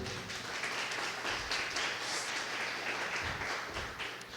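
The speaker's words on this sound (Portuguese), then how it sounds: "Dê uma salva de palmas ao Senhor" A church congregation claps in praise to the Lord, a broad, continuous wash of hands filling the room at moderate volume, with no voices over it.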